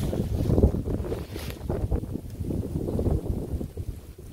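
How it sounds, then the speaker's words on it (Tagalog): Strong wind roars and buffets the microphone in steady, loud gusts, with a low rumbling outdoor wash and no voices. "lakas lakas ng hangin"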